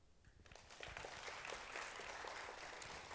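An audience applauds Mr Brown, blogger and caregiver Lee Kin Mun, after his sharing at an event. The clapping swells in after a brief quiet start and holds steady, faint and at a distance.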